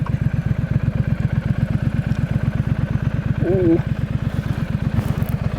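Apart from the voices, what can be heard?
2019 Triumph Street Scrambler motorcycle idling in neutral on gravel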